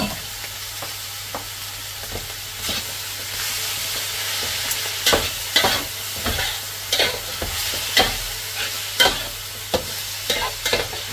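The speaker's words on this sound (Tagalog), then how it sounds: "ilagay na natin ang ating karne. Yun. Ang ating giniling" Ground meat stirred and fried in a pan, a constant sizzle with a low hum beneath and irregular scraping strokes of the utensil that grow more frequent and louder in the second half.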